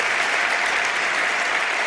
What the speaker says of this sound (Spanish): Yo os pido un aplauso para él y para su gente y su familia